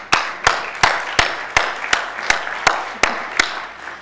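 At a history conference session at Wartburg College, an audience applauds with sharp, evenly spaced claps beating in a steady rhythm, roughly three per second, over a softer bed of scattered clapping throughout.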